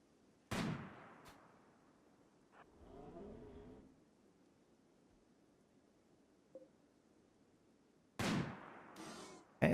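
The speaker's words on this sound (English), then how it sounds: "that's 3 shots at this point" RimWorld gunshots ring out as a few sharp, separated cracks: one near the start, then two or three more in quick succession toward the end, each distinct against a quiet background with faint muffled sounds between.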